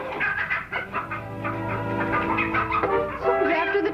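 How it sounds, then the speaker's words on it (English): Chickens cluck and squawk in an agitated flurry, loud and close over a busy background. "Someone's after the chicken."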